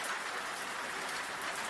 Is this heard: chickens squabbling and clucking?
no